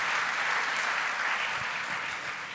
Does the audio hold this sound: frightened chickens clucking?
no